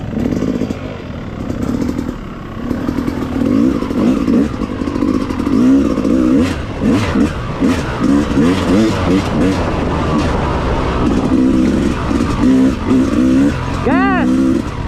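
A motorcycle engine revs hard on a dirt trail, loud and close, the pitch rising and falling in repeated surges while people shout over it.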